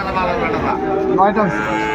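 Sahiwal cattle at a busy livestock market, a low drawn-out moo rising over a constant crowd murmur, with voices talking nearby.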